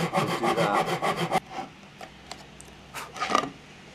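Hand saw cutting fret slots into a wooden guitar fretboard, a close, loud run of quick rhythmic rasping strokes for about a second and a half, then quieter scattered scrapes and a final short burst of sawing.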